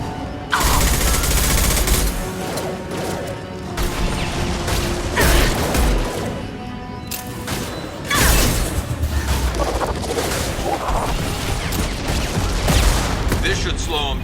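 Gunfire in Mass Effect 2, with sustained bursts of rapid shots and heavy mechanical booms layered over game score, dense and loud for most of the stretch.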